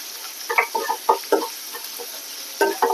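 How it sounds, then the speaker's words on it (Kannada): Onions fry in oil for a mushroom curry and get stirred in short scraping bursts over a continuous soft hiss, heard close with no talking. "ಇವಾಗ ಅದೇ ಆನಿಯನ್ ಸ್ವಲ್ಪ ಡೀಪ್ ಫ್ರೈ ಆಗಲಿ ಅಂತ ಆ್ಯಡ್ ಮಾಡಿರೋದು."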